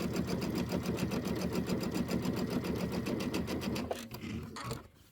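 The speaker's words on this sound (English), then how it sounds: "we are going to sew this side down first" Close, steady whirring of a sewing machine piecing quilt blocks runs continuously, then slows and stops near the end.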